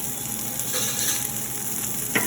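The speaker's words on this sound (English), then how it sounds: "you'll kind of just give that a stir so it's nice and mixed up" Potatoes, carrots and beans sizzle in a pan while being stirred, a steady frying hiss with faint scraping and a brief clatter of the utensil near the end.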